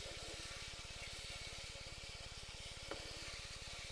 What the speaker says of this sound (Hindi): इसको स्टर करते रहिए फ्रिक्वेंटली।